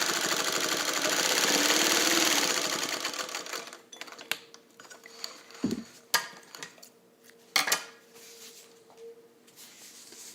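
A Singer 301A sewing machine stitching through thick fabric, first a steady loud motor whir, then slower uneven mechanical clatter and thumps as the needle works at low speed.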